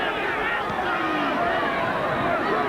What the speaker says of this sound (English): Crowd do not like it